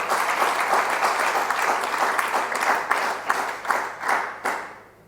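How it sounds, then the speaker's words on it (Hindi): Audience applause at a Hindu religious discourse in Mathura, a loud, rhythmic crowd clapping in regular pulses that thins into a few final claps and fades out. "तालियां बजाओ।"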